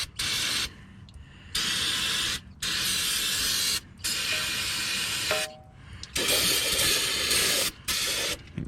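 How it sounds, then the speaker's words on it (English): Brake cleaner sprayed on the underside of a 2012 Nissan Rogue 2.5S during an oil change, a series of about six loud, close hissing spray bursts separated by short pauses. "I like to take brake clean and just give everything a quick little whoop, whoop"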